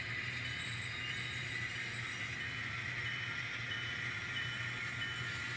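An N scale model coal train runs along its track with a steady, quiet mechanical hum and faint whirring hiss, continuous and even at close range, with no one talking.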